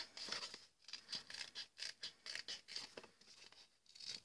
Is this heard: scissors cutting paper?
yes